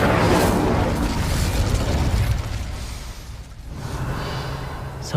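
A fire spell burst in Hogwarts Legacy, cast to open a gate: a loud whooshing blast that roars for about two seconds, dips, then swells again, with no talk over it.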